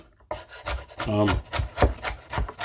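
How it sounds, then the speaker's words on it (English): Celery being diced with a knife on a cutting board for potato salad, a quick run of close, crisp chopping strikes in an uneven steady rhythm lasting a couple of seconds. "So this is the celery that we're going to put in it."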